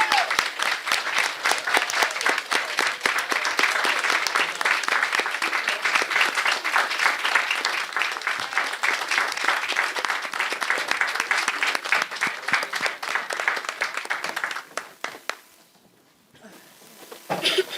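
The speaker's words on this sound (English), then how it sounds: "So I would like you to stand and let us clap you and celebrate you because you're here." A school board meeting audience applauding students, dense sustained clapping filling the room for about fifteen seconds before fading to near quiet, then a brief pickup of sound at the end.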